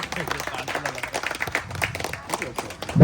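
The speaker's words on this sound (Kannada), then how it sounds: "ಚಪ್ಪಾಳೆ ಬರಲಿ, ಜೋರಾದ ಚಪ್ಪಾಳೆ ಬರಲಿ" Scattered clapping and crowd noise greet the lamp-lighting at a Bangalore auto-drivers' union branch inauguration. Voices chatter throughout, and a loud thump closes the moment.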